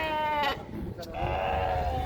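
Sheep and lambs bleat at the Çorum small-livestock market, with a loud nearby wavering bleat and another following over crowd murmur.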